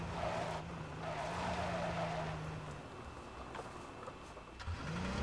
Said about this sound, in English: I could have sworn I just heard a car.